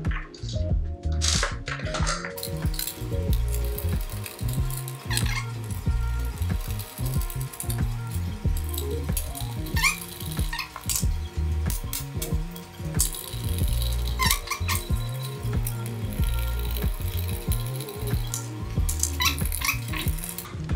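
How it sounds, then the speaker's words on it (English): Small screws being driven in on an AdaptivDesigns Overland accessory for an SCX24 RC car, with repeated ratcheting clicks and faint squeaks from a driver going on steadily and close by, with rustling handling between turns. "Tightening up the screws on top"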